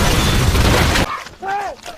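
Glass smashes as a film character plunges through mud in a collapsed apartment building, a loud, dense crash lasting about a second that cuts off abruptly before a voice briefly speaks.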